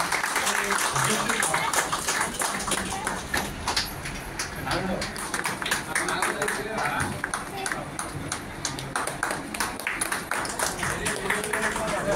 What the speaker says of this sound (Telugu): గట్టిగా మనం చప్పట్లు కొట్టాలి సార్.